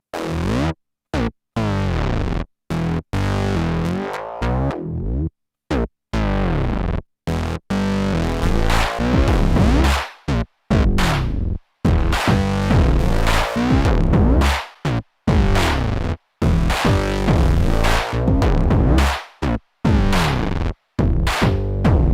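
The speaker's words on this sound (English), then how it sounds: "I just programmed a really quick bass line" A punchy synth bass line chops in short, stuttering bursts with distorted, effect-laden tones, broken by brief silent gaps, loud and unaccompanied.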